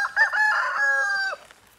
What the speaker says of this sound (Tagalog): ito yung gustong-gusto kong manok